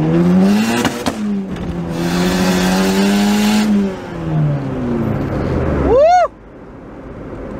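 A turbocharged Honda car pulls hard through the gears, the engine note rising to the rev limiter, dipping at shifts, then a quick high-pitched burst before the sound drops off, loud and close from inside the cabin.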